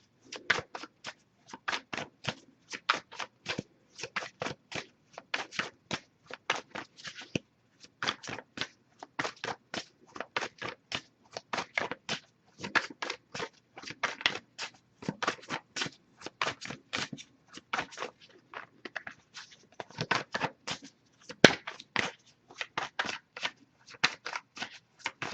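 Oracle and tarot cards are shuffled by hand in steady, rapid bursts of crisp riffling and slapping, close and fairly quiet, repeating for the whole stretch without talk.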